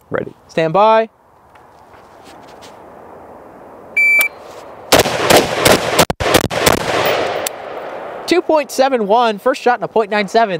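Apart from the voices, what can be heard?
pistol shots during a timed shooting drill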